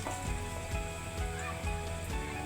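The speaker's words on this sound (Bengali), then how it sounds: "তেজপাতা দিয়ে দিলাম, নেড়ে ছেড়ে" Bay leaves and spices frying with browned onions in a pan, giving a steady, close sizzle with faint periodic stirring scrapes and no talking.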